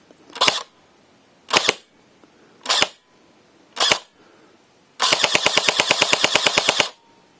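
G&G L85 airsoft rifle: four separate single shots spaced about a second apart, then a rapid full-auto burst of roughly twenty evenly spaced clacks lasting about two seconds, close and sharp.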